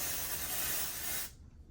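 Texturizing hair spray from an aerosol can, a single close, loud, steady hiss of a little over a second that cuts off sharply into quiet.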